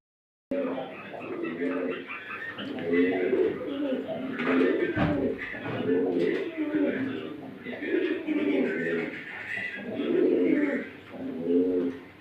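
Pigeons coo steadily and repeatedly on a breeding farm, the low rounded calls overlapping from several birds close by, with a voice talking over them.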